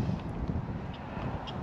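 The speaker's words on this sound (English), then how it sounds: "Boy, it's really windy." Strong wind buffeting outdoors on the Texas Gulf coast, a continuous low rumbling roar close against the microphone for a brief moment.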